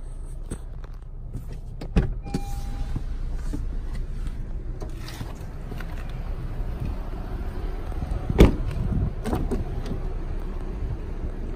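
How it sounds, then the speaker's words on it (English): Sunroof of a 2017 Honda Civic Hatchback EX tilting and then sliding fully open, heard as a steady low electric motor whir with a few faint clicks and thumps inside the quiet cabin. "The vehicle does have a sunroof, both tilt and full open."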